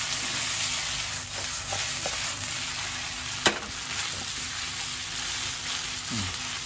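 Japanese café-style spaghetti Napolitan is stir-fried in a pan to build browning, a soft continuous frying hiss with a few scattered stirring clicks and one sharp knock.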